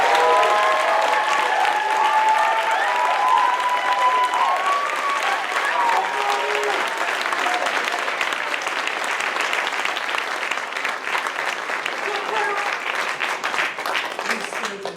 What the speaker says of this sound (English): giving our graduates a much-deserved round of applause